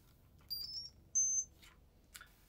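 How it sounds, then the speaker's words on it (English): A remote-control hovercraft gives a few short high-pitched electronic beeps in quick succession as its battery connects, then a longer steady tone, followed by faint clicks in an otherwise quiet room. "And now you hear that beep,"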